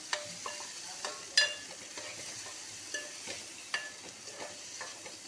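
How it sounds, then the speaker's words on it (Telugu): Ginger garlic paste for mutton curry fries in a pan with a soft, low sizzle, broken by a few sharp spoon taps and scrapes, quiet and close with no voices. "ఇది పచ్చి వాసన పోయే అంతవరకు కూడా ఫ్రై చేసుకోవాలన్నమాట."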